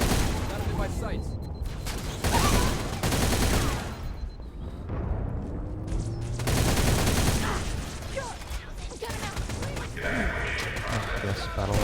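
Battle rifle fire in the game Halo Reach comes as dense rapid bursts mixed with other gunfire, explosions and crashes throughout, while a person talks over the action.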